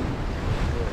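High sea waves surge against the coast near Monastir, Tunisia, a brief, dense, roaring wash mixed with gusting wind buffeting the microphone, steady and close.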